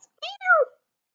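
A single cat meow, two-part and rising then falling, close and clear, with silence around it.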